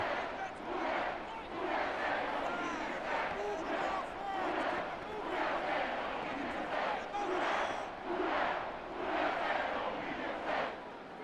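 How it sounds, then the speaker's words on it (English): A simulated home crowd roars and applauds in a Madden 25 NFL game between the Commanders and Saints, a dense, steady stadium swell of noise with rhythmic surges and no clear voices. "And the home crowd applauding."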